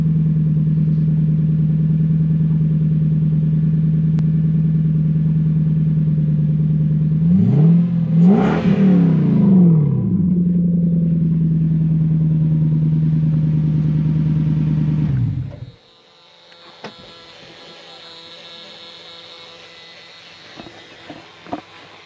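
A Lexus LS430 with its 3UZ V8 idles steadily and close. Midway it rises through a quick rev and settles back, then the engine is shut off, leaving faint clicks and a high electronic whine.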